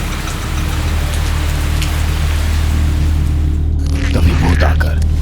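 Heavy rain falls in a loud, steady, close roar with a low rumble beneath it, and a short burst of other sound breaks in near the end.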